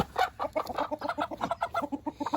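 Homestead flock of chickens clucking in a rapid, continuous run of short calls, close and fairly loud, with no talking.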